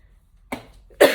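A person with a lingering cough in a home kitchen coughs twice in quick succession, close and fairly loud, the second cough harsher, after a brief silence.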